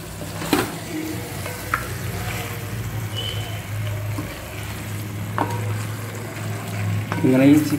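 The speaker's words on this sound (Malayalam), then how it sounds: "അതിനെ ഇളക്കി നന്നായിട്ട് പിടിപ്പിക്കുക" Chicken coated in masala powder sizzles and fries in a pan as it is stirred, with a steady low frying hiss and a few sharp scrapes and clinks of the spoon against the pan.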